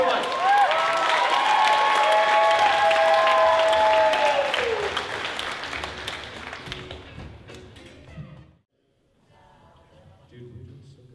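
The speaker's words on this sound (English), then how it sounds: "give Shannon Life a round of applause" An audience at an open mic comedy show applauds and cheers, with whoops over dense clapping that fades over several seconds into quieter room noise and talk.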